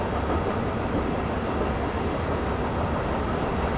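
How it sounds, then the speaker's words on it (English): A train rumbles steadily along the bridge from Venice to the mainland with a continuous low roar and faint rattling of the carriages, heard from on board with no voices. "We caught the train at Santa Lucia station and we're making our way along the bridge"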